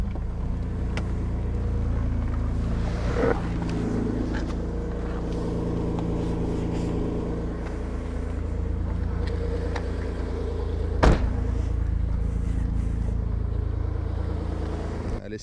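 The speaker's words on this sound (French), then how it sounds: "elle fait un petit bruit beaucoup plus rauque qu'une d'origine quand même" A Peugeot 406 V6 idles while warming up, a steady deep engine rumble close by with a slightly raspy, throaty tone, one brief louder blip near the end.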